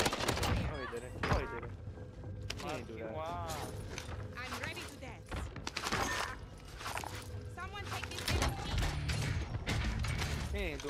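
Gunfire in Call of Duty Warzone: bursts of sharp shots and rattling automatic fire mixed with clattering mechanical sounds and footsteps, with voices talking throughout.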